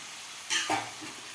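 Brief stirring of shelled beans and mixed seasonal vegetables in a pan, two soft scraping swishes over a steady low sizzle, close and fairly quiet.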